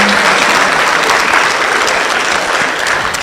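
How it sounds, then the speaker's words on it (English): Sustained audience applause fills a hall at a business forum held at a church venue, loud, steady and dense with no pauses, continuing for several seconds. "Let's keep clapping until he gets to his seat."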